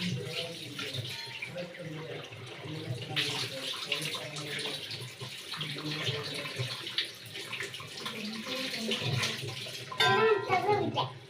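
A water tap runs continuously at a sink, a steady splashing stream heard at close range while voices, including a child's, talk over it.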